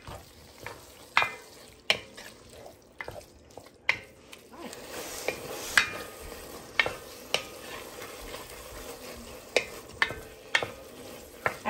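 Hamburger meat with Rotel simmers and sizzles in a pot, a soft steady frying hiss broken by repeated sharp scraping stirs at an uneven rhythm, close and fairly quiet.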